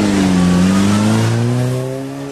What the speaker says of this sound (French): Mini Racing Green de 1000 cm3 de 1989. 55-60 chevaux avec une grosse prépa moteur